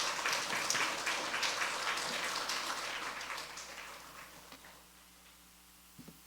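Audience applause at a Wednesday church service as a missionary is welcomed to the pulpit: dense, steady clapping that fades out over several seconds and ends in near quiet.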